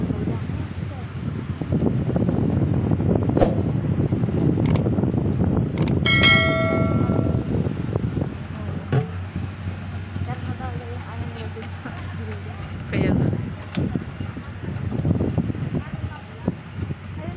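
Strong wind buffets the microphone in a steady roar, with a bell-like chime ringing briefly midway and people talking intermittently underneath.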